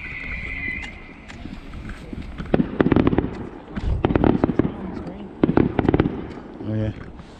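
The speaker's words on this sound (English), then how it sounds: "We're fireworking." Fireworks burst outdoors at a distance in a series of irregular booms and crackles, while people talk nearby, with a brief tonal chirp early on.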